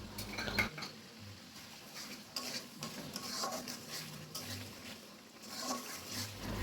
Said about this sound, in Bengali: এবার দিয়ে খুব সুন্দরভাবে মশলাটা কষিয়ে নেব